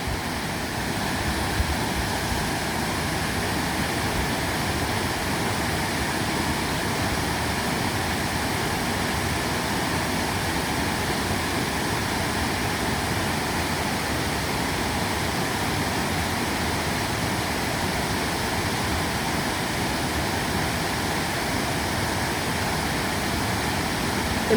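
Steady broadband rush of a waterfall cascading down rocks, continuous and dense with no pauses, filling the whole span at an even loudness.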